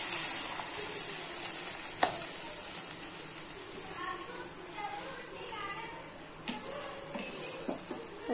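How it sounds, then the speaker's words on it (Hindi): Tomatoes sizzle and fry in a hot pan as a glass of water goes in, a soft steady crackle with a few stirring clicks, while someone talks over it. "सॉफ्ट होने के बाद हम इसमें 1 गिलास पानी डाल देंगे।"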